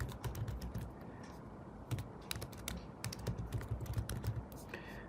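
Keys clatter on a computer keyboard in quick, irregular bursts of close, soft clicks, typing a short entry with small pauses between words.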